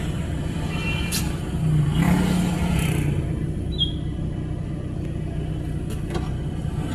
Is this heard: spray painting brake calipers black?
no